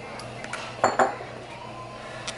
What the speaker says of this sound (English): throw the clams into the water, to the boiling water